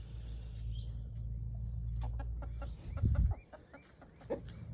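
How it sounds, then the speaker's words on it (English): Chickens clucking around their coop and run outdoors, a series of short clucks and calls over a low rumbling background, with a louder burst near the end. "The chickens are out, running around their coop and run."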